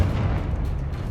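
The Confringo fire spell in Hogwarts Legacy detonates in a loud, booming blast whose deep rumble fills the whole moment without letting up.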